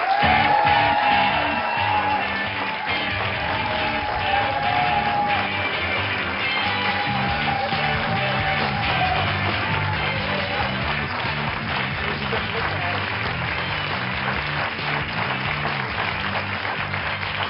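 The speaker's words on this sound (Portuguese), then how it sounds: "Ou é um forte aplauso ou não há doutores." Studio audience on a Portuguese television medical talk show applauds and cheers steadily, a dense wash of clapping with whoops and a melodic tone over it, lasting throughout at even loudness.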